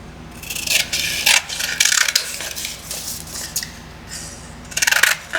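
Paper journal pages being trimmed produce close, intermittent scraping and snipping cuts in short bursts with quiet gaps between them.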